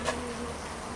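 Honeybees buzzing as a beekeeper shakes them off hive frames while dividing a colony, a steady close insect drone filling the whole second with no voices.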